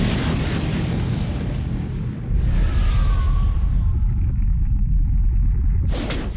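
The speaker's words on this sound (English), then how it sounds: "Gone with a thunderclap." A Lightning Dragon thunderclap jutsu in Naruto Ultimate Ninja Storm 2 erupts as a loud, sustained rumbling blast with crackling bursts, holding steady for several seconds before tailing off.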